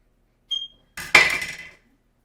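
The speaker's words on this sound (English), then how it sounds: "I have a bench scraper. We're going to cut that into 4 pieces." Bench scraper chopping homemade pasta dough into four pieces on a work surface: a small tap, then a firmer scraping chop with a short sliding tail, close and alone.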